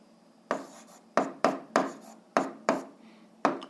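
A pen writes out the answer to an eighth-grade algebra factoring exercise by hand: about seven crisp, scratchy strokes in an uneven rhythm, close up and fairly quiet, with no talking.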